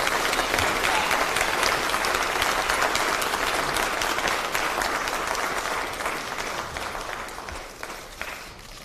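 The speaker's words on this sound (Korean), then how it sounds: "여러분 오늘 박수로 맞이해주시기 바랍니다" A hall audience at a People Power Party lawmakers' meeting claps steadily to welcome presidential candidate Kim Moon-soo. The applause is dense, loud and sustained throughout, then thins and fades slightly toward the end.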